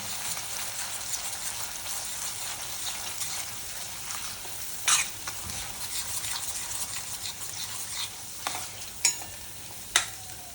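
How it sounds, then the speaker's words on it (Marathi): Chicken sautéing in oil in a pan, a steady soft sizzle under intermittent stirring, with a few sharper scraping knocks of the spatula toward the end, close and moderately loud, no speech. "बघा तेल चांगलं सुटेपर्यंत ह्याला व्यवस्थित असं परतून घ्यायचं."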